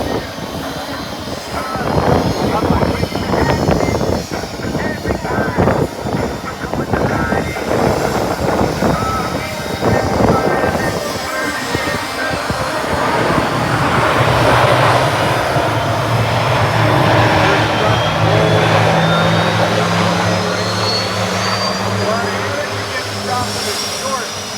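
A C-130J transport aircraft roars past at an airshow, its loud engine drone swelling and shifting in pitch as it passes, with a voice talking over the noise throughout.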